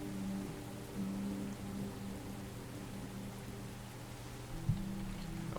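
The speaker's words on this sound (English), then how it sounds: "I woke up to the sound of the rain" Steady rain falling during a hurricane, a soft even wash of drops heard from indoors, with a low hum running beneath and no voices.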